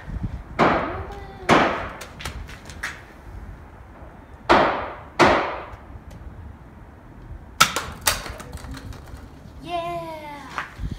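A Nerf Elite 2.0 Echo CS-10 blaster fires foam darts at targets, several sharp pops and clacks spaced a few seconds apart, with brief talk between shots.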